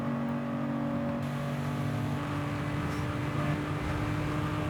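V12 engine revving in a car in Forza Horizon 5, a low-toned, steady mechanical drone whose pitch shifts as the revs change, close and prominent with no voices.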